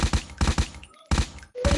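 Gunfire in Call of Duty Mobile battle royale, loud close bursts of rapid shots in three or four quick volleys separated by short gaps, with a brief in-game tone between them.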